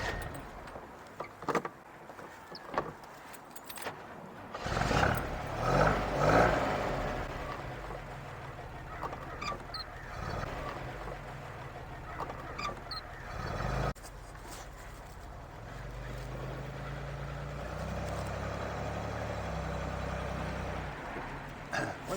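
A 1954 Corvette on a drive: door and cabin handling noises and thumps come first, then a steady low engine rumble settles in and continues through the rest of the clip.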